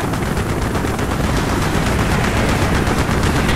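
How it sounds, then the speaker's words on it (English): Anti-aircraft gunfire in Call of Duty Black Ops, a dense, continuous roar of rapid shots and blasts that stays loud and steady with no pauses. "Taking AAA fire from the deck!"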